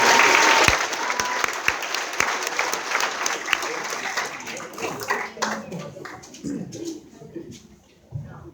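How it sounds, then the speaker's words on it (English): An audience claps and applauds loudly for several seconds, the dense clapping thinning out toward the end with scattered claps and a voice beginning to speak. "So let's give him a round of applause."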